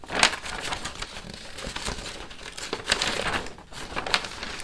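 Glossy pages of an IPSY Glam Bag X magazine being handled, close crinkling and rustling with sharp paper snaps scattered through the handling.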